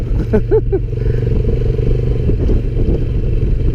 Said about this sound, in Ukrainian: по піску я вам скажу цим мотоциклом так собі їздить